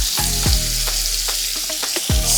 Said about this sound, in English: Okay, our bacon is cooking good.